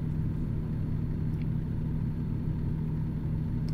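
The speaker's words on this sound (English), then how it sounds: "This is a much better sounding engine." A car engine running steadily while driving on the road from Albuquerque to Farmington, a low, even rumble with a constant hum and no talking.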